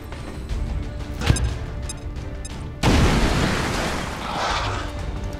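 Gunfire and an explosion in the tactical video game XCOM 2: a sharp crack, then a sudden heavy blast that rolls into a long, loud, roaring debris rumble.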